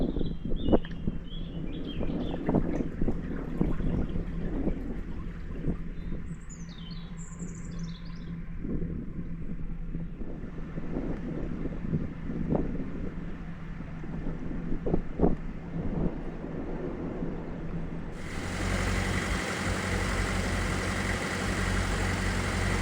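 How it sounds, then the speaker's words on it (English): Wind gusting around a boat cruising in winter, a steady broadband rush with occasional bird chirps early on, then a harsher, louder blast of wind noise buffeting the microphone in the final seconds, no one speaking. "the wind is picking up a little bit, so it's making it quite keen at the moment"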